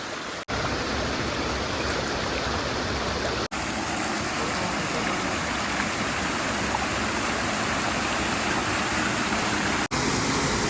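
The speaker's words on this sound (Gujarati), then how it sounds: "ઉપર જે ધોધનું પાણી પડે છે તે અહીંયા આવે છે" Loud, continuous rush of a monsoon waterfall and flowing stream in the Pavagadh forest, Gujarat, a broad steady roar with two or three brief cuts in the sound.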